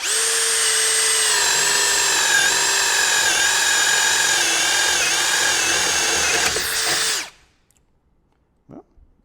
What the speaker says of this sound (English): you're going to use a paddle bit